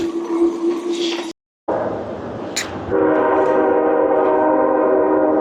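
A train rumbles past nearby, and partway through a loud, sustained horn blares over the steady roar.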